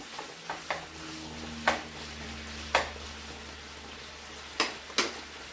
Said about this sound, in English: So we got the chicken in the pan and the noodles boiling.